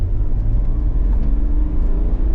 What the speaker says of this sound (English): It's a very, very smooth engine.